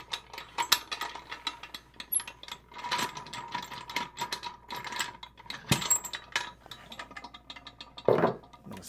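Clamps on a resin casting pressure pot being loosened, a string of close ratcheting clicks and metallic mechanism rattles with a sharp knock near the end, no talking.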